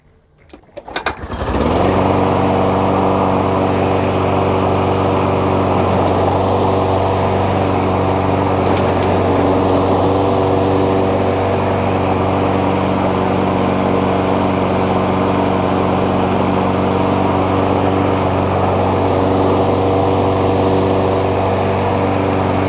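A Toro 22-inch Recycler front-wheel-drive lawn mower starts up and settles into a loud, steady, close-up engine drone that holds evenly to the end.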